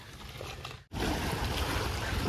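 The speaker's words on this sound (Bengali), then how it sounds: "অনেক ঢেউ" River waves slosh and rush against a fishing boat on a river in New York, a dense, steady wash of water noise that cuts out for an instant before surging back.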